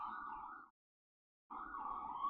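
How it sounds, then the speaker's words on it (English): Emergency sirens wail steadily in the distance, with a clear gap of silence in the middle before they resume, with no voices over them. "y'all hear the sirens?"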